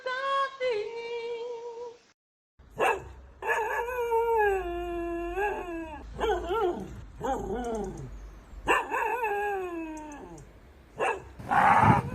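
Several dogs bark and howl in long, wavering drawn-out cries, overlapping in bursts with brief gaps, loud and close, with no talking over them.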